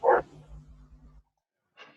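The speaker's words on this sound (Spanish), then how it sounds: "Apágame el perrito." A small dog gives a short bark at the start, followed by a low humming tone and a brief faint yip near the end, close and otherwise quiet.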